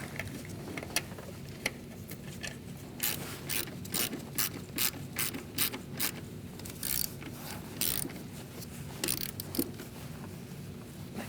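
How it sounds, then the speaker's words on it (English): A ratchet clicks in quick bursts while tightening a bolt on a bracket of a 2002-2006 Toyota Camry, near and distinct over a quiet background. "And get that bolt started and tighten it down."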